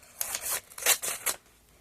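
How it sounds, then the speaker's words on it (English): Scissors cut through tape sealing a paper envelope, giving several quick crisp snips and rasping cuts close by, with no talking. "I'll have to use the scissors because she's taped it down really, really well"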